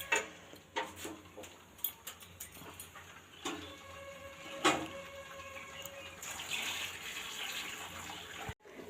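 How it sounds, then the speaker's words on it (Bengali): Water is poured into a pot of mutton curry with potatoes, giving a running, splashing pour with scattered clinks and taps of utensils and a brief louder clatter midway. "এবার জল দেওয়ার পালা"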